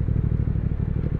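A 2023 Triumph Speed Twin motorcycle engine pulses under load while riding, a close, rapid, throbbing low exhaust beat that holds steady for the whole moment.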